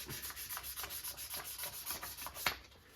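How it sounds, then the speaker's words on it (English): Very fine sandpaper rubbing on a Holton H181 trombone slide during repair: continuous rhythmic back-and-forth rasping strokes, close and fairly quiet, no voices. "This is very fine sandpaper, real smooth."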